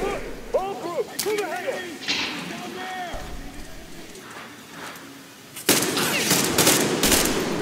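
Gunfire in the post-apocalyptic shooter Metro Exodus, heavy rapid automatic shots breaking out loudly in the last couple of seconds, after a stretch where a person talks over quieter game sounds.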